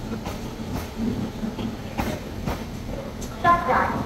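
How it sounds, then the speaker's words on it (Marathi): The Ernakulam–Okha Express rolls in at a station platform on the Konkan Railway, its wheels giving a rhythmic clatter over the rails, with a brief higher squeal near the end. "आता माझी ट्रेन आलेली आहे एर्नाकुलम ओखा एक्सप्रेस"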